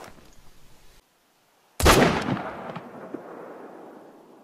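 A single loud rifle shot in a hunting video game aimed at a fallow deer, a sharp crack after a moment of silence followed by a long rolling echo that slowly fades.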